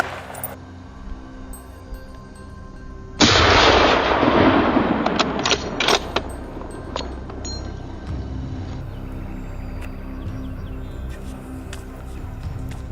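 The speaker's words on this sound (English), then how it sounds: "I raised my rifle, aimed carefully at one of them, and fired." A rifle is fired at wild boars near a corn field, one loud close blast that booms and echoes for several seconds, followed by a few fainter sharp cracks over a quiet outdoor background.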